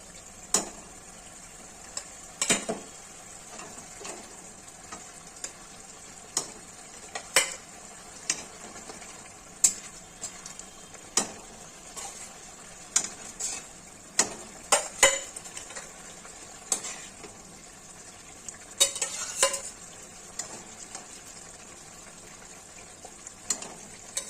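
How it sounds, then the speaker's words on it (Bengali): Catla fish pieces go one by one into a boiling fish curry, giving a steady low simmer broken by repeated sharp utensil clinks and taps against the pan, close and fairly quiet. "এখন এক এক করে মাছগুলো ছেড়ে দিব।"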